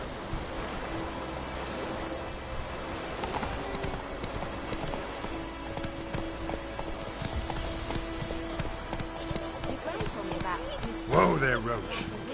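The horse Roach's hooves clip-clop at a steady walking rhythm through The Witcher 3 video game, with ambient outdoor noise behind the hoofbeats, a brief louder moment near the end, and talk over the walking.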